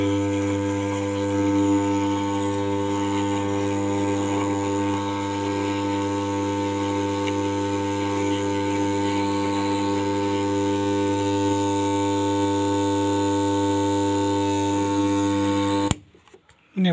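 Hair clipper running steadily while its blade is sharpened on sandpaper: a constant close electric buzz with a strong mains-like hum, unbroken for about sixteen seconds before cutting off abruptly.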